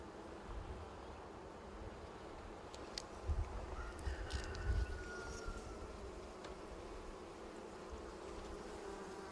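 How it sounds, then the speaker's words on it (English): A steady, dense buzz of many honeybees close by in an open hive, a continuous drone that swells briefly with a few louder passes near the middle. "those first couple of frames were just heavily loaded with bees"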